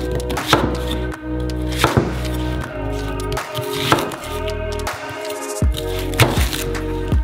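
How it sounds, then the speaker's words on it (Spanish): A knife cuts an onion into quarters on a cutting board, giving about five loud, close, evenly spaced chops that ring on the board. "Cortamos la cebolla en 4 partes."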